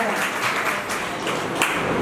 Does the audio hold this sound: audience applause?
yes